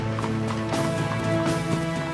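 Horse hooves clip-clop in a quick running rhythm as a prince rides with his princess downriver at night, a continuous galloping beat set in a steady background bed.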